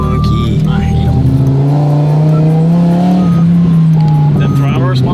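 A Lamborghini Huracán Performante engine revs on a dyno, very loud and close, a sustained droning roar whose pitch climbs, holds and dips again, with voices audible over it.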